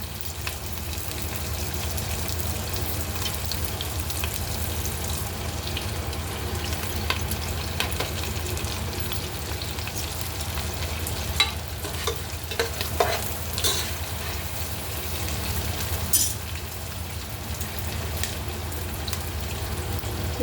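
Spices, curry leaves, onion and green chili fry in ghee and oil for a prawn biryani, giving a steady, loud, close sizzle with occasional stirring clinks throughout.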